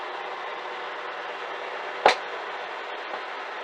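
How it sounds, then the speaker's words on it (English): One sharp pop from a bass amp switching off breaks through a steady electrical hiss, followed by a faint tick a second later. "that is the sound of your amp turning off after a hard day's work."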